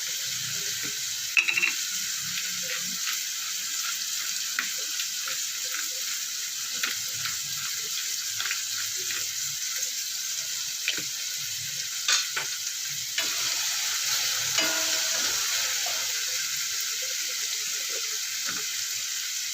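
Fish sizzling and spitting in hot oil in a pan, a steady crackling fry with occasional sharper pops and stirring clinks, close and continuous throughout.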